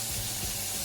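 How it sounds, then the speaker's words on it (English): Tap water runs steadily into synthetic hair bundles held under the faucet, a continuous hiss and splash without talk. "Again, adding water."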